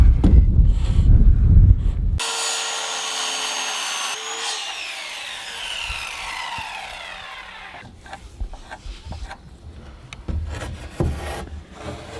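A power saw cuts an angle into a wooden rafter at an off-grid cabin build in Alaska, loud and close after a short rumble, whining down as the cut finishes, followed by quieter handling knocks.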